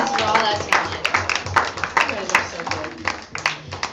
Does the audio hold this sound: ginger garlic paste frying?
no